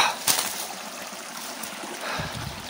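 A small woodland stream flowing, giving a steady, fairly loud watery rush with a few brief splashy accents and low rumbles from nearby movement.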